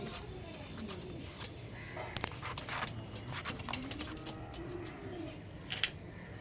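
Kalanka pigeons, a rare antique breed, cooing softly in low rolling calls, with faint clicks and rustling from the birds nearby.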